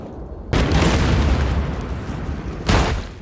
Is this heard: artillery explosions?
yes